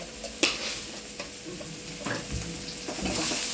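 Homemade masala frying in oil for a cashew and paneer curry while being stirred, a soft continuous sizzle punctuated by clicks and scrapes of the spoon against the pan, with no talking.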